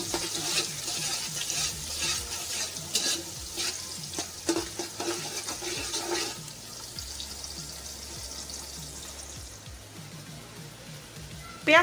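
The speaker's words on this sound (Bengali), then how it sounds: "পেঁয়াজটা হালকা ভাজা হয়ে গেলে" Onions fry in ghee in a pan, giving a continuous sizzle with repeated scraping and stirring strokes, close up, tapering to a quieter sizzle near the end.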